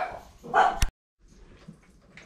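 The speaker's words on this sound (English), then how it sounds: "The puppy is being stupid, as usual, being a little wild." A puppy gives a few sharp, lively barks up close in a room, one loud burst then quieter rustling and faint noises afterward.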